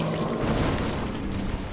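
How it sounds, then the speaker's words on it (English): A deep, rumbling explosion in Dark Souls 3 rolls out as a brief, dense boom with a low roar and no voices. "Explosion? Explosion."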